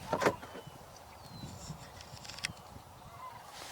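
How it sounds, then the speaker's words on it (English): A sandhill crane gives a short, loud rattling call near the start, then fainter cries follow over steady outdoor background noise in open marshland. "Definitely hearing sandhill crane."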